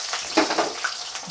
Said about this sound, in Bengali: আমি এই দুটোই দিয়ে দিচ্ছি তেলের ওপরে